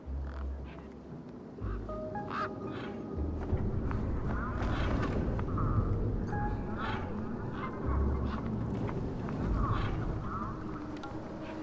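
Honking bird in the adventure game Beyond a Steel Sky: repeated goose-like honks and quacks over a busy background, with someone talking over much of it.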